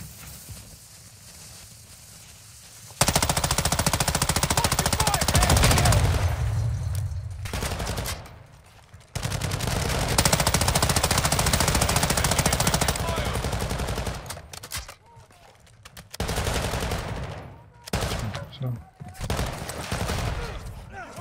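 Sustained turret machine gun fire in Call of Duty Warzone 2.0 DMZ at the Koschei Complex, loud continuous bursts broken by short pauses and clipped volleys, with no talk over it.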